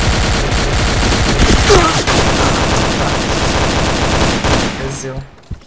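Sustained gunfire from the video game Point Blank, dense overlapping bursts of automatic weapons for several seconds, loud and close, fading out at the end with a brief spoken word.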